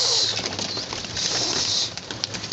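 Pigeons coo and stir close by, with soft low calls and a few brief flutters against a quiet background and no talking.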